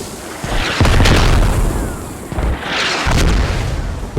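Heavy mortar explosions in the Squad video game: several deep, loud booms with rumbling tails, one after another in quick succession, with no voices over them.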